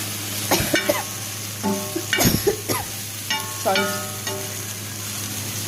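Prawns coated in masala frying on a tawa pan, with bursts of sizzling and scraping stir strokes recurring every second or so, close and fairly loud, with no talk.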